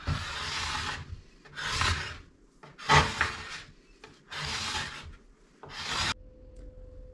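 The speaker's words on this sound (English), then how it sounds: "As I scrape in this motion, it allows me to effectively remove" A plastic scraper dragging wax off a ski in five long, rasping strokes separated by short pauses, loud and close with no talking.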